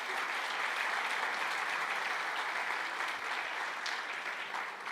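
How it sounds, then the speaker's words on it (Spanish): Steady, sustained applause from a church congregation, a dense wash of clapping that stays even and fairly loud throughout with no talk over it. "Denle un aplauso al nombre de Cristo Jesús."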